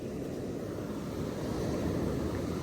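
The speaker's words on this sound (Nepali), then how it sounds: "कति धेरै छाल हौ" Sea waves roll in at a beach, a faint, steady low roar of surf with soft wind noise and no distinct breaks.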